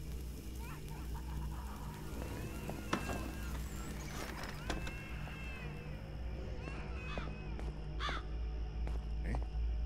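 In an atmospheric horror video game, a crow caws several times against a low droning ambience. The calls come in short bursts, some close and some more distant, with scattered clicks in between and no talking.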